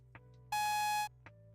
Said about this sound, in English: This terrible beeping sound.